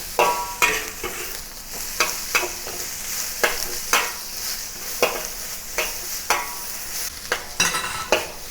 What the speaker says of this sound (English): the green peppers and stir fry until the green peppers start to become slightly soft